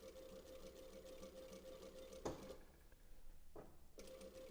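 A sewing machine top stitching grey knit binding runs in a steady, close, even hum, pausing briefly midway before starting up again.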